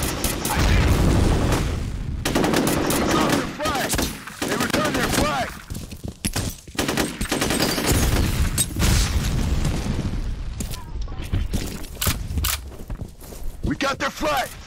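In F.E.A.R. Combat multiplayer, a grenade blast lands amid dense, continuous gunfire, with loud booms and rapid bursts close by while players shout over the chaos.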